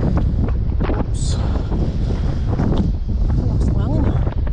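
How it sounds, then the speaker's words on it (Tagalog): Strong wind buffeting the microphone outdoors near the sea, a constant loud roar throughout, with a person talking over it. "Lakas ng hangin."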